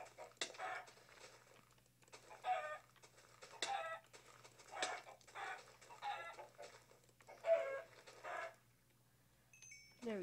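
Chickens in the mining video game Hack/Mine cluck repeatedly in short, evenly spaced bursts over a steady low hum, moderately close and fairly quiet, with no talking.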